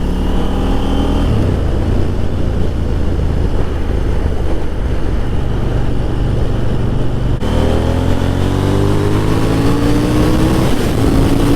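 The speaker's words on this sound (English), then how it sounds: "They have done a really good job with this motorcycle, distributing the weight and just keeping her light." A 2021 KTM 890 Duke motorcycle is ridden at speed, its engine droning loudly under heavy wind rush, with rising rev sweeps as it pulls through the gears.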